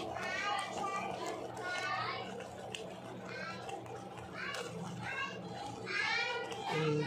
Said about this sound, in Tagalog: Ang ingay ng mga bata sa labas.